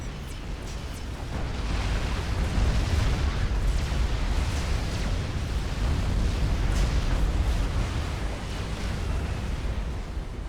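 Deep rumbling explosions and blasts from the Explosions Mod in the real-time strategy game Forged Alliance Forever, a dense continuous barrage of booms and bursts filling the whole stretch without voices.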